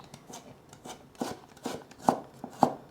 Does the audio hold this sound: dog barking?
no